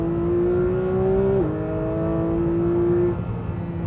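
Porsche 911 GT3 of the 992 generation taking a corner on a race track, its engine holding a steady, loud high-revving tone that dips briefly mid-corner and then sustains, close and continuous with no talk.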